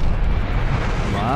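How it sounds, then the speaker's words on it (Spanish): In Call of Duty Vanguard, a glide bomb explosion rumbles loud and close as a broad, sustained low-end blast filling the whole moment. "Una bomba planeadora."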